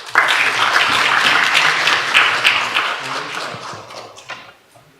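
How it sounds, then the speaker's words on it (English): A symposium audience at a cancer center gives a loud round of applause to welcome session chairs; the dense clapping holds steady, then thins and fades away over the last second or two. "Please welcome them with a big round of applause."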